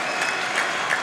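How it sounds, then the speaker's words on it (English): Audience applause at a 2012 World Table Tennis Championships match in Dortmund, China versus Germany: dense, steady clapping from a large arena crowd, loud and sustained throughout with no voices on top. "Huge applause from the audience."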